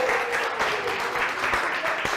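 Audience applause for Corey fills the room, a steady wash of clapping from a crowd, sustained and fairly even for a couple of seconds with no talk over it.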